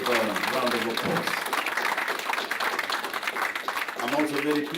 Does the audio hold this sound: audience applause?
yes